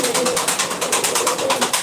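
Ankara game pigeons at a live bird auction give loud, close, pulsing coos in a steady rhythm, with no talk over them.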